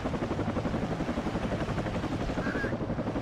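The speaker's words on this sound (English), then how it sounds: "it's time for another push with helicopters. We got three Little Birds and the Cobra." Attack helicopters in the WARNO video game, three Little Birds and a Cobra, make a steady rotor thrum with rhythmic chopping pulses, loud and continuous, with no talk over it.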